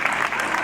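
Audience applause at a musical talent show, a brief dense burst of many hands clapping together, steady and fairly loud.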